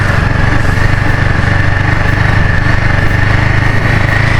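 A motorcycle engine drones steadily and loudly while riding downhill along a muddy trail in Northern Palawan, close up with no pauses and no talking.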